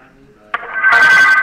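Phone text message notification tone sounds briefly and loudly, a bright electronic chime that swells up over a faint background.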